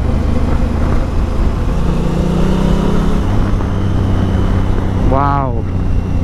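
A motorcycle, a 2018 Kawasaki Versys 1000 or a Honda Africa Twin CRF 1000, rides along with a constant engine drone under heavy wind rush, and a brief rising rev near the end.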